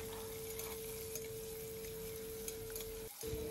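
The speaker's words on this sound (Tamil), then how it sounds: "இதை எல்லாத்தையும் நம்ம வதக்கிக்கணும்" Garlic and sliced onion sautéing in a pan, a steady close sizzle and crackle with a constant hum underneath and a brief dropout near the end, no talk.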